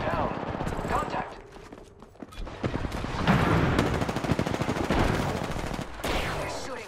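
Enemy gunfire in the battle-royale shooter Apex Legends, with rapid automatic bursts rattling in clusters over game effects and a player talking throughout.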